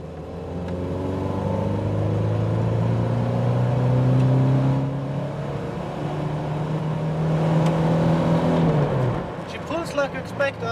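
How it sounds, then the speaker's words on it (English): A 1982 Ford Granada with a 2.0 litre engine accelerating on a test drive, the engine note rising steadily through the gears from inside the cabin before easing off, followed by a moment of talk. "There we go, now we can take a better acceleration."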